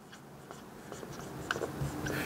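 A pen scratches across paper in short strokes while the conductor counts for an electrical box fill calculation are written out by hand, close and fairly quiet with no talking.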